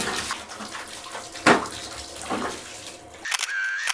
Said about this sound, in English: So I'm just going to literally wash my spiral, my tank, and let it dry naturally